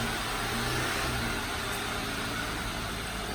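A 2018 Jeep Wrangler JL engine runs steadily, a constant broadband rumble and hum at even loudness, with no talking over it.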